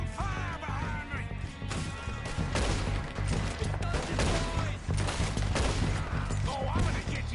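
A Red Dead Redemption 2 gunfight against O'Driscolls: dense, continuous gunfire with cracking shots and impacts under music and shouted voices.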